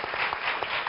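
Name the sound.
applause for the TV presenter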